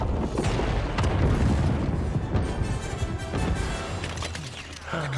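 The control ship blows up in the Lego Star Wars video game, a loud, booming explosion with crashing debris and rumbling blasts that slowly fade, with no talk over it.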